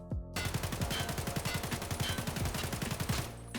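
An AK-74M rifle in Escape from Tarkov fires a fast, sustained automatic burst of roughly twenty-five evenly spaced, loud, sharp shots at close range, with no talking.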